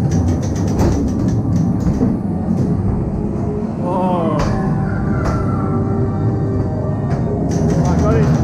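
A ghost train ride car at Rainbow Park, Hunstanton, rumbles and clatters steadily along a track, with rhythmic clicks and occasional squeals, and voices talking over it.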